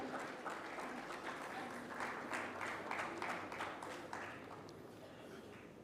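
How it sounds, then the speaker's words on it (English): Faint, distant applause from the audience at a sustainable media and design conference at Sharda, an even patter of many hands clapping for a few seconds. "A huge round of applause for Anumita Roy Chaudhary, everyone."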